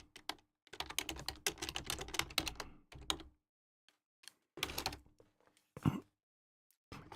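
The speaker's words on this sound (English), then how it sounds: "I'm typing it now." Bursts of quick clicks from typing on a computer keyboard come in short runs broken by pauses, faint and close, with no talking.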